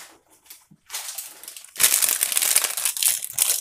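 Plastic packaging around a pack of tabletop miniatures is cut and torn open, giving close, loud crinkling and crushing that starts softly and grows into a sustained rustle in the second half.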